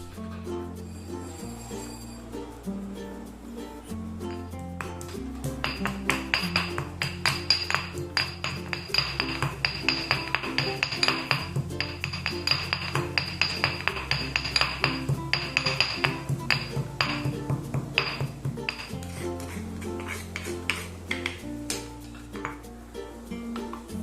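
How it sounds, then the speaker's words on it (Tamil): Steady rhythmic pounding of spices with a stone pestle in a stone mortar, repeated thuds with faint clinking, continuing for a long stretch close to the listener. "நான் இந்த மாதிரி கல் உரல் வச்சு நல்லா இடித்து வந்து எடுத்துக்க போகிறேன்"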